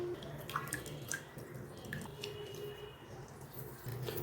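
Homemade aloe vera gel squeezed through a cloth, giving soft wet squishes and faint drips, close and quiet, with no talk.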